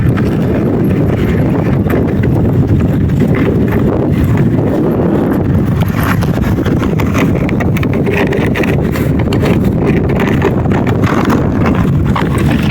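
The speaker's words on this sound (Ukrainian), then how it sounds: "вітер трошки" Steady, heavy wind in a cool forest roars and buffets the microphone throughout, a constant rumbling rush with no pauses.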